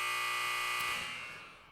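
A loud electronic buzzer blares in a steady tone, then cuts and fades away.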